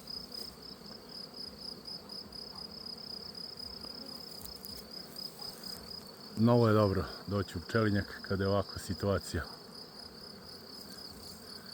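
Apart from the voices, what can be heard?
honeybees buzzing in an apiary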